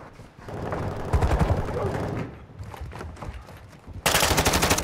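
Dense automatic gunfire from a Call of Duty: Modern Warfare II match played on PS5, rattling bursts almost continuously throughout, with a sharper, louder volley near the end and game voices mixed underneath.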